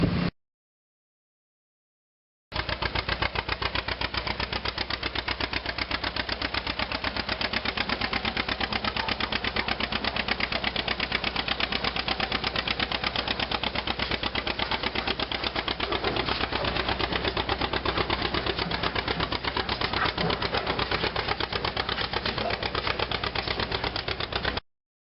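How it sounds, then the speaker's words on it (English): A 1954 Case model 500 diesel tractor engine runs steadily after a short silence, a rapid, even knocking chug held at one pace throughout, fairly close and alone. "1954 model 500 Case diesel."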